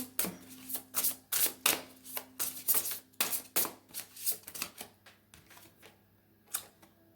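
Tarot cards shuffled and drawn at close range, a rhythmic run of sharp riffles and slaps followed by a few quieter isolated card snaps, with no talking.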